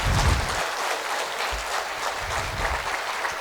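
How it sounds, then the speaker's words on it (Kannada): A large crowd at an Adigas Yatra travel anniversary celebration claps loudly and continuously, a dense even wash of applause that holds steady throughout without any voices. "ಎಲ್ಲರೂ ಒಂದು ಸಲ ಅಡಿಗಾಜವ್ರು ಜೋರಾಗಿ ಚಪ್ಪಾಳೆ ತಟ್ಟಿ."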